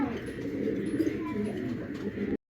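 An Indian Chuina pigeon coos softly amid steady low background noise and bird chatter, with a faint voice nearby, before the sound cuts off abruptly.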